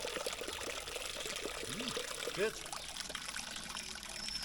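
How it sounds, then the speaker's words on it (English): Spring water pours from a fountain into water bottles, a steady close trickle and splash under a voice saying a brief word, with faint birdsong in the background. "So we've been advised to fill our bottles up from this fountain."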